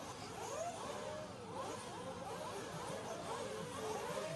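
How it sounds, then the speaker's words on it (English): RC racing cars rev at the start of a Myrtle Beach race final, several small engines whining and rising in overlapping revs, a busy, continuous buzz heard at moderate distance. "They're revving away."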